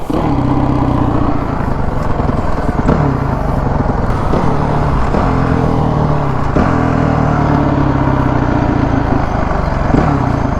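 Honda CRF450X dirt bike and Audi S5 V8 racing side by side, a loud, continuous engine roar with repeated rev surges and gear-change dips throughout.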